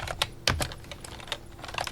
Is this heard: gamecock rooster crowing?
no